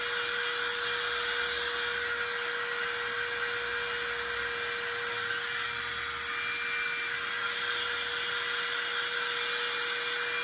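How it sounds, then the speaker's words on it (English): A handheld blow dryer heat-setting paint on a fabric garden flag runs continuously, a steady high-pitched whine with a bright airy rush that holds level the whole time. "My little handy dandy blow dryer."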